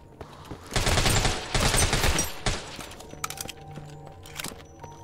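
A bursting volley of gunfire as zombies are shot in the video game Deathly Stillness, with loud clustered shots early, then sparser cracks and a rhythmic mechanical tapping.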